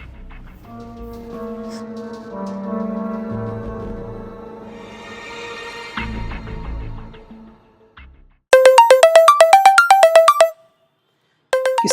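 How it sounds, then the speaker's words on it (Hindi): Low music plays at first, then a bright electronic phone ringtone trills loudly in a fast repeating melody, stops, and starts again. "किसका फोन आ गया?"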